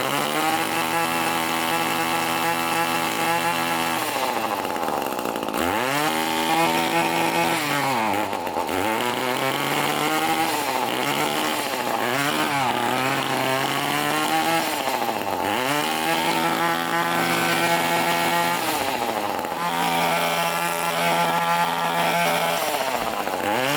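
Echo SRM 210 line trimmer two-stroke engine running continuously and loudly at close range, revving up and settling back down several times.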